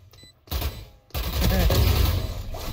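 Gunshots in the Valorant video game, a few sharp close shots followed by a dense burst of rapid fire that stays loud to the end.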